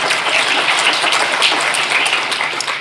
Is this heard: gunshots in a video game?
no